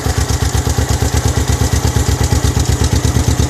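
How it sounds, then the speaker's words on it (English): A 1968 Honda CL450 K1 motorcycle engine running at a steady idle, loud and close, with a quick even thumping exhaust pulse and mechanical clatter throughout. "running like a new bike and pretty much looking like a new bike."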